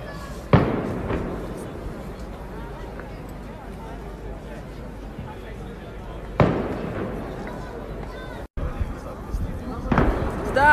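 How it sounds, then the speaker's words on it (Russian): New Year fireworks in Prague boom in a few sharp bursts spaced several seconds apart, with crackling in between and people talking throughout. "О, да, салют в Праге!"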